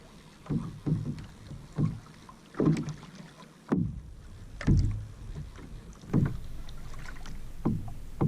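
A paddle bumps against the hull of a Stealth 555 kayak in a series of dull, irregular knocks, some louder than others, over faint wind and water.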